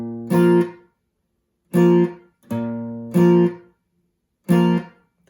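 An acoustic guitar plays a song with short strums, each chord cut off quickly by the hand muting the strings, leaving choppy bursts separated by silent gaps in a steady reggae rhythm.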